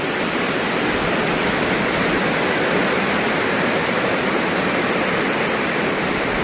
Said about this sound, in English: Amazing Direntha Waterfalls